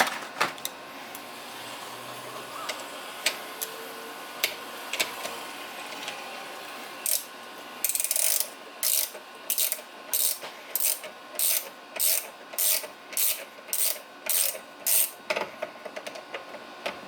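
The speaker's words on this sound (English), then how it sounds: "Just tighten our nut back on." A ratchet clicks as it tightens a nut on a vintage Honda mini trail motorcycle, with quiet fiddling at first and then a run of about a dozen sharp, evenly spaced ratcheting strokes, close and distinct.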